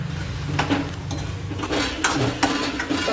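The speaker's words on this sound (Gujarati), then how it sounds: "સરસ રીતે બધું મિક્સ કરી દેવું અને ચડવા દેશું ઘડીક વાર માટે" A spoon stirs and scrapes a bottle gourd, tomato and spice mixture in a metal cooking pot, with several clear clinks and scrapes over a faint simmer and no talking.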